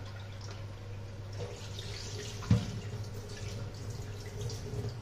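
Water runs faintly from a tap with a low steady hum as fish is washed under it, and a brief knock sounds about halfway through.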